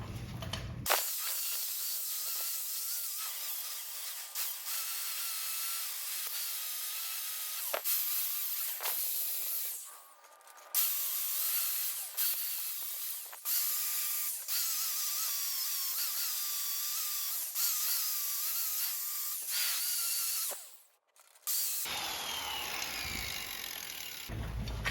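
A grinder works a metal brake bracket on a 1990s two-stroke build, making a steady high-pitched whine and grinding hiss that runs in long passes and stops briefly twice, close and loud with no talking.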